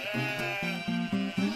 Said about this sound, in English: Shirley, Burley, and Curly were three sheep brothers